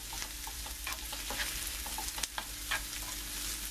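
Spinach sauce for spaghetti being stirred in a pan, a quiet steady sizzle with scattered light scrapes and clicks from the spoon, no talking.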